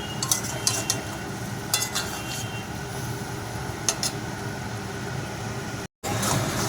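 Green beans frying in a pan with a soft continuous sizzle, stirred by a utensil that clicks and scrapes against the metal at intervals, close by and with no talk.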